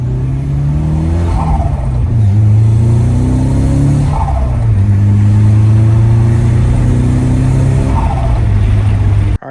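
A Nissan 240 car engine runs loud and close, revving up in repeated rising pulls every couple of seconds, with no voices over it.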